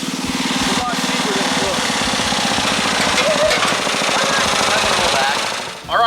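Loud, close engines of four garden tractors climbing a trail chugging and rattling steadily together, a rough, continuous mechanical drone that barely changes level.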